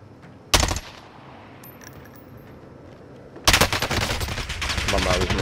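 Two bursts of rapid automatic gunfire in the video game Call of Duty: Warzone, a short loud volley near the start, then a longer sustained loud stretch after a quieter gap.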